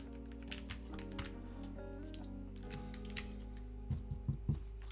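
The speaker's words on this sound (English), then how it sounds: "Numpad sound test." Numpad keys on a custom keyboard build being pressed for a sound test, a sparse series of short clicks and taps at irregular intervals, fairly close but quiet over a steady low background hum, with no talk.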